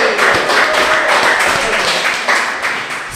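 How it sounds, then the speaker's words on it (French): A live audience at a podcast recording claps steadily, a loud, continuous wash of many hands that stays dense throughout and eases slightly toward the end. "C'est sur cette pluie d'applaudissements que je commence le balado numéro 12"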